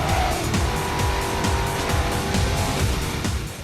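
Lamborghini Murcielago with a V10 or V12 engine racing in Need for Speed Hot Pursuit, a steady loud engine drone mixed with tire squeal and skidding throughout, no talk.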